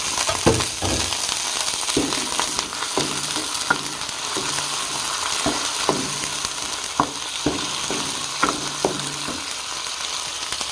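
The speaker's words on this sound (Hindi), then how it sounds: "थोड़ा सा जो है फ्राई कर देना है ताकि इसका रंग जो है पीला पीला सा हो जाए।" Ingredients for Peshawari rice fry in a pan with a steady broadband sizzle, with repeated stirring scrapes and clinks throughout, close and loud, with no talking.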